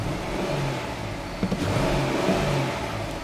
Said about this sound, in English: So now I'm gonna accelerate,